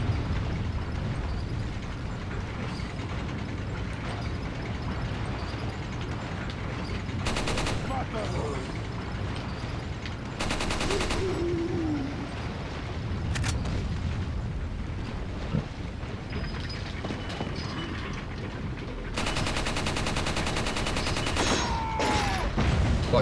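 Gunfire and bursts of shooting from Resident Evil 4 in a castle setting, a dense, continuous barrage with louder broadband blasts rising out of steady game noise, while someone talks over it at times.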